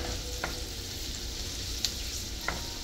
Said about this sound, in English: This medley is just something about peppers when they're sauteing